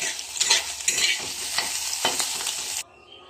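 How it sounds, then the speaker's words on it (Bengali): An egg crackles and sizzles in a hot pan, with a scrape of stirring now and then, before the sound cuts off abruptly near the end. "ডিমটা এখন ভাজা হয়ে গেছে"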